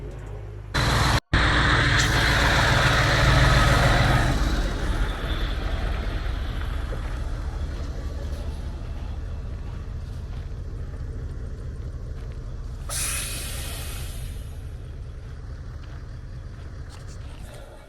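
A construction truck engine turns over and catches with a loud rumble after a brief cutout, then settles into a steady, close idle that carries on evenly with a short hissy burst partway through.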